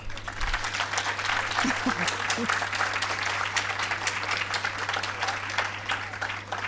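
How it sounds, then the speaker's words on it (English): Applause from the audience at an exporters information session, a dense burst of clapping from many hands sustained for several seconds over a steady low hum, with faint voices mixed in. "by way of an applause, please"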